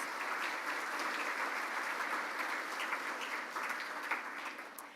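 Audience applause at a Rotary Club awards gathering in Tulsa, a sustained even wash of clapping from a large crowd that holds steady for several seconds, somewhat distant and fading slightly at the end.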